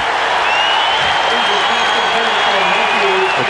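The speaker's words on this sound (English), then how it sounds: "The crowd gets into it." A football stadium crowd roars continuously after a Missouri defensive stop against Texas A&M in 1992, a loud, sustained wash of cheering with a commentator talking over it.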